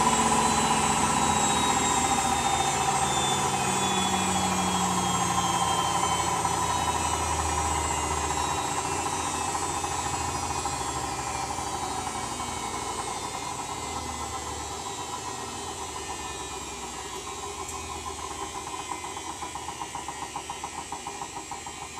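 A Zanussi WJD 1667 washing machine on its final 1600 rpm spin gives a continuous loud whine and hum with shifting tones, slowly winding down and getting slightly quieter toward the end.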